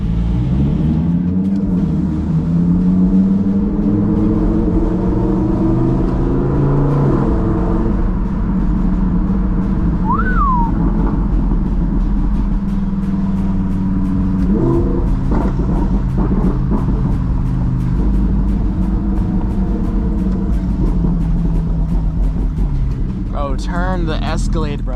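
An Audi R8 with a loud exhaust rumbles and rises in revs from inside the cabin, a steady close engine drone under ongoing talk.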